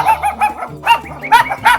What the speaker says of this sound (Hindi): यहाँ पे कुत्ते की पिल्ले की भौंकने की आवाज आ रही है